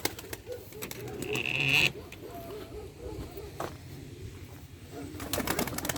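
Pigeons cooing in a busy crowd of birds at an outdoor pigeon market in Bursa, Turkey, soft rolling coos repeating over general bustle, with wings flapping nearby.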